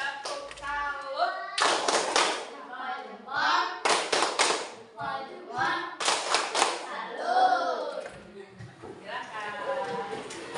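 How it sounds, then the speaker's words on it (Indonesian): A group of children in a classroom claps out a rhythmic salute pattern, with bursts of sharp unison claps alternating with chanting voices and a teacher speaking between them. "Boleh kasih tepuk salut? Tepuk salut."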